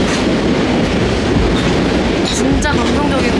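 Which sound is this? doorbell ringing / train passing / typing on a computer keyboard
train passing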